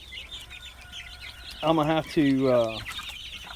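Chickens at Alderman Farms cluck and squawk in a couple of loud, close bursts over soft chirping and outdoor ambience, with a person's voice speaking briefly.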